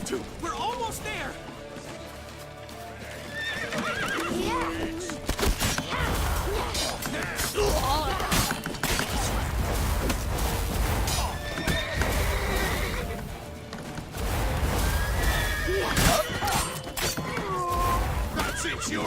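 In The Witcher: Wild Hunt, a horse neighs and whinnies amid thudding hooves, crashes and scuffling. Voices speak over much of it, and the action swells and fades.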